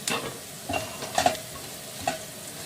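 Dried red peppers go into tomato paste frying in a pot for a spinach dish, giving a faint crackling sizzle with a few soft stirring clinks.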